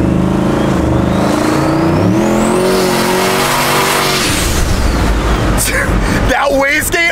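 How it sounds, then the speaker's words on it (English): An 800whp race truck revs hard and loud up close, its turbo wastegate venting in a rising whoosh, then the engine note breaks into rough, bursting pulses with tire chirps near the end while excited voices talk over it. "That wastegate opening,"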